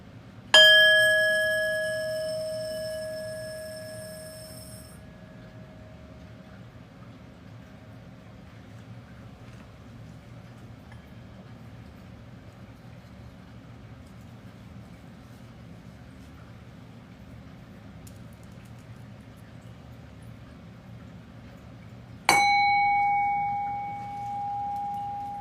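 A bell rung during a funeral ceremony gives one bright struck ring at the start that sustains and slowly decays over several seconds, then a second strike near the end, over a low steady room hum.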